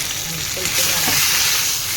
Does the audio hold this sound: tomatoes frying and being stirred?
yes